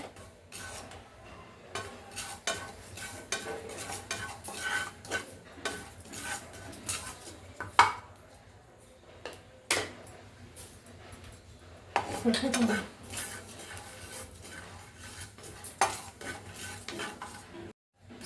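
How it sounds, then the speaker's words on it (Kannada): A metal spoon scrapes and clinks in a pan while poppy seeds are dry roasted, giving soft repeated stirring strokes with occasional louder taps against the pan and faint crackle, all close and fairly quiet. "ಗಸಗಸೆನೂ ಚೆನ್ನಾಗಿ ಹುರಿಬೇಕು ನೋಡ್ಕೋಬೇಕು ಕೈ ಆಡಿಸ್ತಾ ಇರಬೇಕು"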